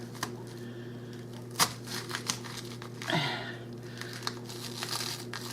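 A knife cuts through cabbage with a few faint, crisp crunching and crinkling strokes spread irregularly over a quiet background, close by, with no speech.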